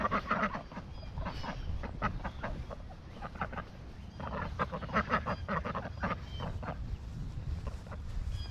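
Domestic ducks quack in a busy chorus on a morning walk, repeated nasal calls overlapping near and loud, with the odd softer cluck between them.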